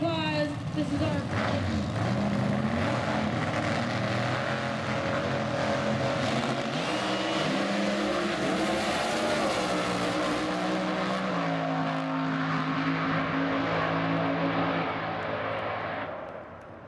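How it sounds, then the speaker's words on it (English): Supercharged alcohol-fuelled small-block Chevy Fiat Topolino drag car making a 2014 run, its loud engine roar sustained for about sixteen seconds, shifting pitch through the pass before fading at the end. "And a good run for Mr. James House."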